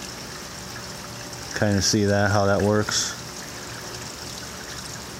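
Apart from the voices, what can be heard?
water cascading evenly across fodder trays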